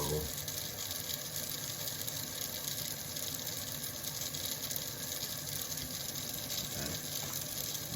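Water streams steadily from a kitchen faucet fitted with a Brita faucet-mount filter, a soft continuous hiss and gush heard fairly quietly with no change in flow.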